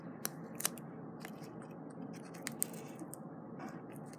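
Tape being cut, with several sharp, crisp snips and crackles scattered over a steady low hiss, close and fairly quiet.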